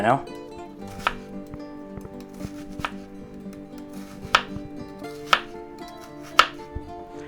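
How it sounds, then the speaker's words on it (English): A knife slices food thinly on a cutting board for a grilled tomato, egg, ham and cheese sandwich, with sharp isolated knocks spaced about a second apart, close and quiet, without talk. "we'll go ahead and slice this up. Kind of thin,"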